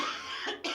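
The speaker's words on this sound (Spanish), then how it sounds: "veo que tienes una tos horrible" Two harsh, close coughs from someone suffering a cold on a Spanish-language morning talk show, with a short gap between the bursts and no talking over them.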